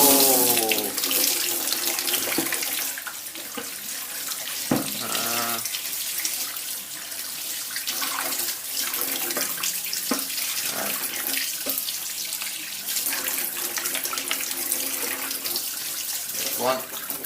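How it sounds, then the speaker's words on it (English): Cold water runs steadily from a tap onto drill parts being rinsed, a continuous splashing gush with occasional clinks and shifts in the flow as pieces move under the stream. "I'll use the cold tap"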